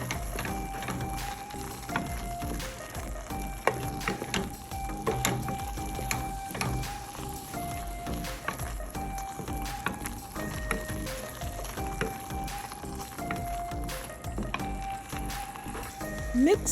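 Coconut flour and psyllium husk being mixed into a swallow dough, heard as soft repeated squishing and knocking strokes in a steady rhythm, with background music and some talking over it.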